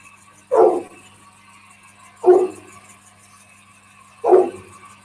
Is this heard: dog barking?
yes